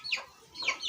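A rooster or chicken at a bird fair clucks in two short bursts, close and moderately loud, with no talk.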